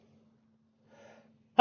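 After near silence, a single abrupt sneeze bursts out loudly and close by at the very end.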